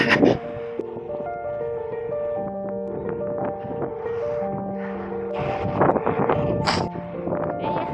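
Wind rushing past a cyclist riding with a tailwind during training for an Ironman 70.3 in Valencia. It is a steady, close rumbling buffet that lasts throughout, with sustained musical tones layered over it.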